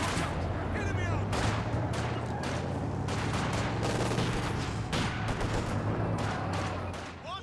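Rapid bursts of light machine gun fire from upgraded guard infantry in Company of Heroes 2, a 2v2 battle, crackling steadily throughout with booms and battlefield noise layered over a low rumble.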